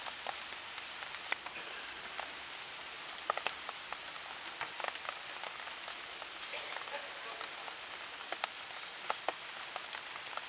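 Steady rain falling on surfaces outdoors where soaked pigeons shelter, a dense even patter with scattered sharper drops throughout, moderately faint and without talk.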